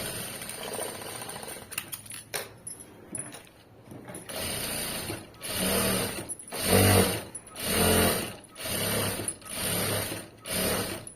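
A sewing machine stitches a side seam in a garment. Its motor whirs in a run of close, rhythmic bursts, each a second or so long, with short pauses between them. A few clicks and soft handling sounds come first.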